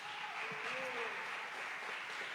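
A church congregation claps in applause, a steady continuous patter of many hands at moderate volume, with a faint voice underneath.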